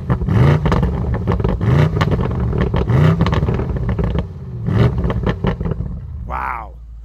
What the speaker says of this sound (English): let's go ahead and have Lauren do some rev time